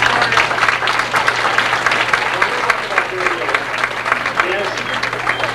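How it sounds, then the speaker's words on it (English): Steady applause from an audience at a 1989 band banquet, dense continuous clapping filling the room at even volume throughout, with a faint low hum underneath. "Did you applaud these people?"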